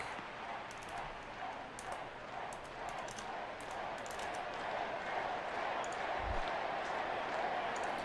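A stadium crowd in the MLB 11: The Show baseball video game cheers in a steady, broad roar that swells slightly toward the end, with a voice talking over it.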